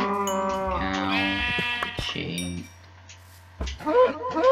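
Minecraft sheep bleating, several wavering baa calls in quick succession, close and clear, followed by a short pause and further game sounds, with a player speaking briefly.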